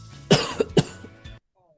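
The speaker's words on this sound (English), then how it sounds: "Bear shakes and he shivers. He coughs and he quivers." A storyteller voices a sick bear's cough: two sharp hacking coughs close together, then a softer third, loud and close before silence.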